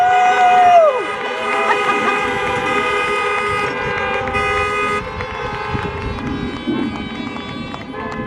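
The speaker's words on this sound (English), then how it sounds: "Let me hear you honk your horns." Many car horns honk together in sustained, overlapping blasts at a drive-in high school graduation ceremony, with a steady blaring drone and faint cheering or voices mixed underneath.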